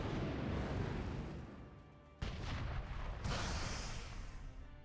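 An explosion ability goes off in a World of Warcraft pet battle, a dense booming burst of noise followed by two sharper blasts, fairly quiet overall and with no voices.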